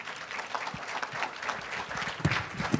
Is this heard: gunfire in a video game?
no